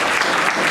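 Conference audience applause, a dense steady wash of many hands clapping at once, sustained and fairly loud throughout the brief moment.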